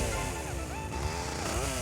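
A chainsaw in GTA Vice City buzzes loudly and continuously, its whining pitch rising and falling as the blade revs, with no talking.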